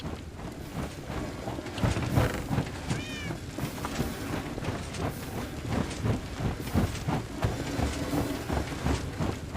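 Cats in the video game Minecraft, played with the Enigmatica 2 modpack, meow repeatedly alongside a steady rhythmic clopping of footsteps or movement, one clear meow standing out near the start of the sequence.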